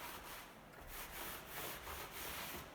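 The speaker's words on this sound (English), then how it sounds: "I go in with a soft cloth. This is a cotton t-shirt. And I just rub over it." A soft cotton t-shirt cloth rubbed over the glazed surface of an antique European door, giving faint, rhythmic swishing strokes repeated about twice a second, quiet and close with no talk.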